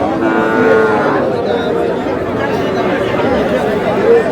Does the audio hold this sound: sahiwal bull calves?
yes